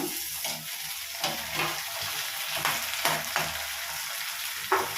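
Onions and freshly chopped tomato sizzle and crackle in a hot pan for chicken sukka, a steady loud frying hiss with occasional stirring scrapes and no talking.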